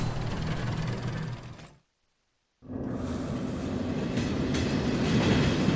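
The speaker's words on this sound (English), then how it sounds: "Reggie was sure a tram was the rumbling creature the miners had" A mine tram rumbles along its track, a dense, steady low roar that cuts out into a brief silence, then resumes with the same rolling rumble and a faint hum.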